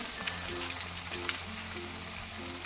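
Crushed garlic cloves sizzle steadily in hot oil in a pan for poori bhaji, a close, even crackle with faint low tones running beneath and no voices.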